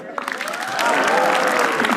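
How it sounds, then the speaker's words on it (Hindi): A comedy roast audience breaks into loud, dense applause that swells and holds steady, with some cheering mixed in and no talk over it. "ओंकार यादव के लिए तालियां"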